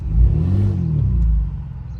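Turbo whistle and engine roar from a revving Ford F150 with the 2.7 EcoBoost twin-turbo V6, heard up close as one sustained rev that rises and then eases off over about two seconds, with no talking.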